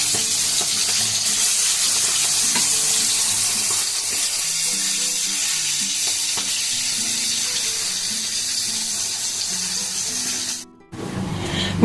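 Pomfret rubbed with salt and turmeric fries in a pan with a steady, loud hiss and sizzle that runs for about ten seconds, then cuts off abruptly before a brief, quieter stretch at the end.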